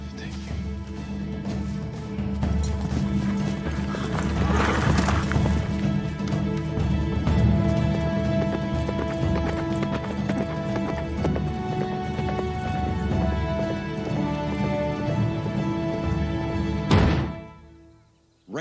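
Hooves pound in a fast, driving rhythm under a dense wash of music, with a brief whinny, before everything cuts out abruptly near the end.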